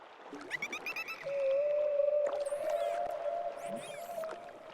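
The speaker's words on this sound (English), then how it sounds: "And you just take the boat out here and listen to the whales." Whale calls in a Cities Skylines game: long sustained moaning tones with rising whistles and chirps layered over them, clear and fairly prominent, with no talk.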